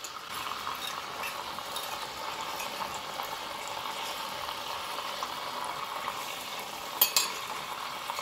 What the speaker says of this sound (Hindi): अब हम इसको दही के साथ जो है ना भून लेंगे।